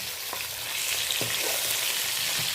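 Hilsa fish heads fry in hot oil with a dense, continuous close-up sizzle and a few soft knocks from the pan, with no talking.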